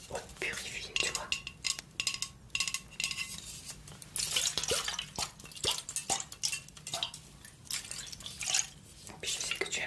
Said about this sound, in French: Et puis je sais que tu aimes les sons, donc je vais te faire profiter du son de l'eau.